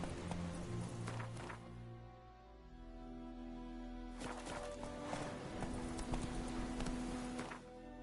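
Hooves of a horse galloping in The Witcher video game pound in a fast, steady clip-clop rhythm, loud and continuous with game music tones underneath and no speech.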